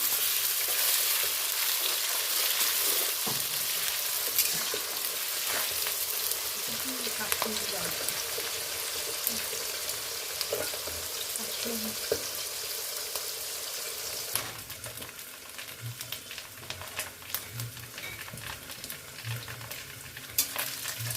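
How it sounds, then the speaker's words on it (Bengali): A long, steady sizzle of onions frying in hot oil with bay leaves, with intermittent stirring scrapes and clicks of a utensil against the pan. "পেঁয়াজটা ভাজা হয়ে গেছে।"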